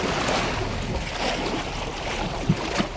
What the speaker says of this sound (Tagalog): Pinapakaspasan tayo ng alon.